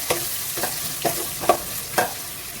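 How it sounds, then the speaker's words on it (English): Onions sautéing in a pan with a little salt make a constant close sizzle, broken by five regular stirring scrapes about half a second apart. "onions, saute them well"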